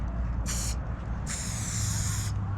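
Spray paint can fitted with a wide fat cap, giving two loud hissing bursts, a short one followed by a longer sustained spray, over a low steady background hum.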